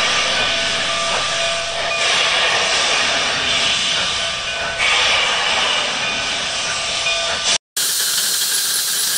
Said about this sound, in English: It's a live steam engine built to burn coal or wood.